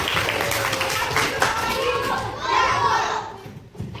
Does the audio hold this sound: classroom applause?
yes